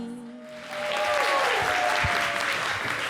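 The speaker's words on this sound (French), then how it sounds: "Madiene Lentoussa, merci de l'applaudir." Audience applause fills a French local television studio, steady clapping that swells after a quiet start and holds loud and dense throughout, with a faint voice at the very beginning.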